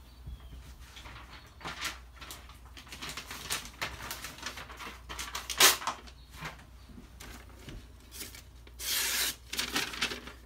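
A Microtech Socom Elite knife with CTS-204P steel is sharpened up close in irregular raspy strokes, with soft rubbing and scraping passes and one longer hissing swipe near the end.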